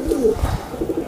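A high flyer pigeon gives a brief, close, soft cooing call of a few low throaty notes.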